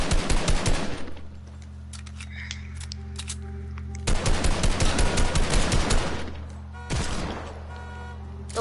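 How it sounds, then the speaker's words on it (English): Video game flintlock pistol shots come in loud, sharp bursts, one at the start, another around the middle and a third near the end, each with a ringing tail over a low steady hum. "I just flint knocked him and just flick shot him right in the head"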